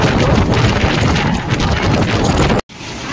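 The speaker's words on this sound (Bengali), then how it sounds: "সাংঘাতিক ঝড় হচ্ছে" A strong storm wind in Jhargram roars against the microphone as a loud, continuous rumbling buffet, cutting out abruptly near the end before resuming.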